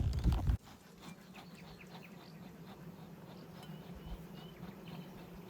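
Honey bees hum steadily in a beehive at a bee yard, a low continuous buzz that follows a brief loud thump at the start.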